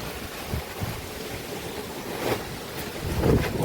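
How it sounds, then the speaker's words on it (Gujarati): Strong wind blowing outdoors under gathering clouds, a loud, continuous buffeting roar on the microphone with gusts swelling and fading, and no talking. "ઓ પવન બહુ આવે છે"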